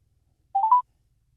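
A phone dialing out plays a brief run of three quick touch-tone beeps, clear and close, in otherwise near silence.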